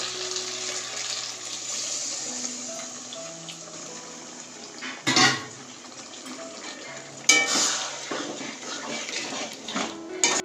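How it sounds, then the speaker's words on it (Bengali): A little water is poured into broccoli cooking in an oiled pan. Steady sizzling is broken by two sharper splashing hisses as the water hits the hot pan, close up. "তো এরপর দিয়ে দিচ্ছি অল্প একটু জল।"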